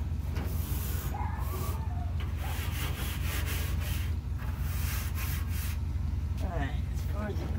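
A brush scrubs the grease-coated metal of a smoker in repeated rough back-and-forth strokes, steady and close, with some faint talking underneath.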